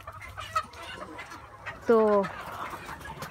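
Free-range chickens on a farm make a short, loud squawking cluck, with faint bird sounds and someone talking in Hindi around it.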